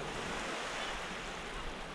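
Waves on an extremely calm sea, a steady soft wash of surf with light wind noise, continuous and fairly faint, with no voices.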